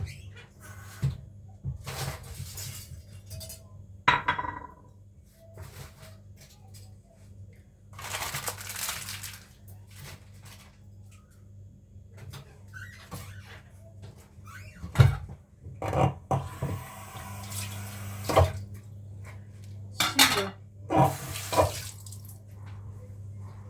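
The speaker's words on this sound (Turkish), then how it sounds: "bulaşık makinesini boşaltayım" Dishes and cutlery clink and clatter in intermittent bursts as a dishwasher is unloaded, with racks sliding and cupboard doors knocking against a low steady hum.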